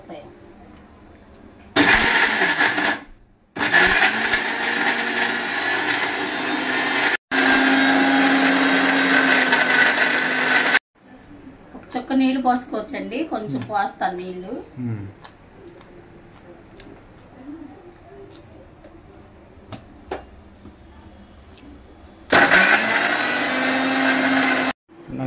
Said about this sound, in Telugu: మిక్సీ పడతాను.